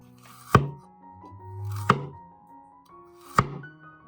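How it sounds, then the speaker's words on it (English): A sharp knife slicing through fresh ginger on a cutting board, three separate crisp chops spaced about a second and a half apart, close and clear against a quiet background. "The surface of ginger cut with a sharp knife is smooth as jade"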